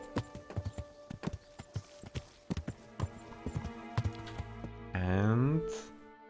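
Steady clip-clop of horse hooves on a ride in the medieval game Kingdom Come: Deliverance, a brisk regular rhythm of close hoofbeats, ending with a loud horse whinny near the close.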